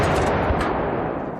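A test gunshot is fired at the Kazan gunpowder factory, producing a loud, dense, rumbling blast that fills the moment and tails off only slightly.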